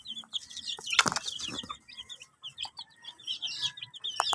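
Many newly hatched chicks cheep in high, rapid peeps close by while a mother hen clucks low among them, with a short burst of wing flapping.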